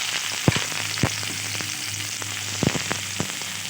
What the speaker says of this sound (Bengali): এবার ফোড়নের জন্য দিয়ে দিচ্ছি শুকনো লঙ্কা আর কালো জিরে, দিয়ে দিচ্ছি পেঁয়াজ কুচি